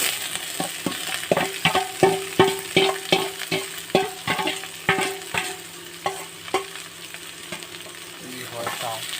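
Onions frying in a pan until browned, stirred with a rhythmic run of loud scraping and clanking strokes of a utensil over a constant close sizzle, slowing toward the end.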